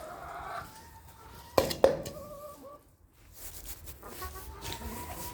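Backyard chickens cluck while being fed lettuce, a couple of sharper, louder calls standing out midway over a steady low murmur of hens and faint outdoor ambience.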